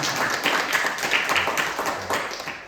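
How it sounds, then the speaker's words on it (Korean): A church congregation applauds to welcome a member back after a month away: a steady, dense patter of many hands clapping at moderate loudness, continuous for a few seconds without a pause. "환영의 박수 한번 해주시기 바랍니다."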